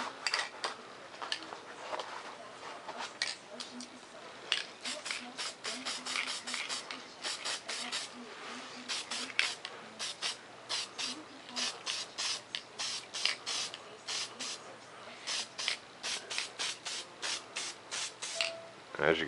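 An aerosol spray can lays a quick clear top coat over a cut-and-assembled model F-117 stealth fighter in a series of short, sharp hissing bursts, with someone talking between and over the sprays.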